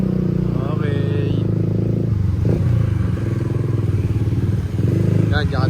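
A motorcycle carrying three riders runs along a road with a steady, loud engine drone and some clatter, while voices talk over the noise.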